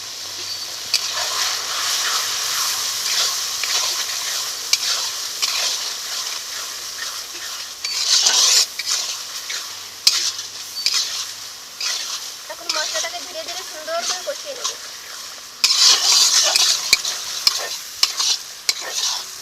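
A spoon stirs and scrapes Bengali spice masala with salt, turmeric and a little water in a pan, with steady frying sizzle and repeated louder scraping bursts, and a voice speaks briefly.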